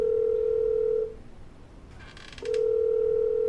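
A telephone ringback tone sounds twice, a steady electronic tone, a pause of about a second and a half, then the tone again, heard through the line.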